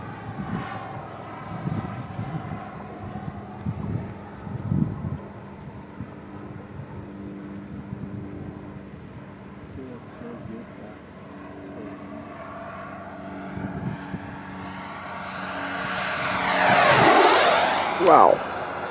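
A radio-controlled Saab J35 Draken model jet flies over Rabbit Dry Lake with a steady turbine whine, and voices are heard nearby. The jet roars louder and closer near the end as it sweeps past with a rising, then falling pitch.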